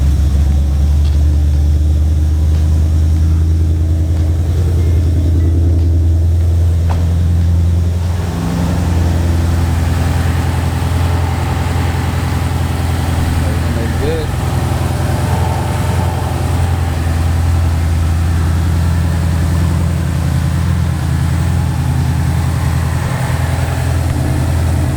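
A modified Gen 2 Mustang fitted with a Pmas fenderwell intake and an 18 manifold idles steadily and loudly for the whole stretch, its deep, even rumble close by with no one speaking.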